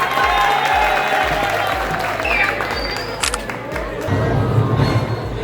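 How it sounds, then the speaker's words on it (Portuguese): A crowd at a Pint of Science science-outreach event applauds for a participant, with steady clapping throughout and some cheering toward the end. "Palmas pro Samuel!"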